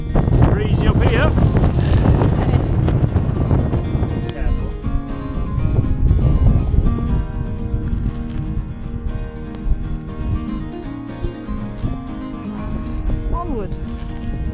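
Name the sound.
strong wind on Kinder Scout moorland edge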